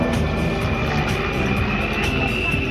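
Patrouille de France jets in a six-aircraft formation passing at a night air show in Méaulte, a steady, loud broadband jet roar with a sustained whine that holds evenly throughout.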